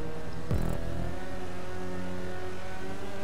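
A car engine revs hard during a stunt race in the video game GTA 5, a steady loud drone with a brief rising burst early on, no voices over it.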